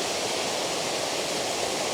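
Waterfall with a messy, broken flow, heard as a steady broadband rush of falling water, continuous and fairly close with no voices.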